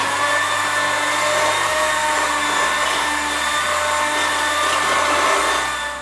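An electric beater mixing wet cookie dough ingredients with vanilla, a steady loud motor whine and hum running continuously with no talk.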